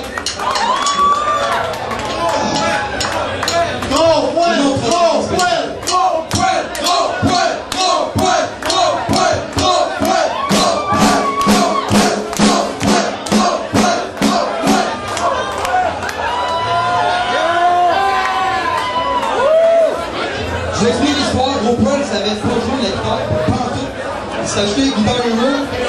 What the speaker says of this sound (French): Applaudis Jean-Fred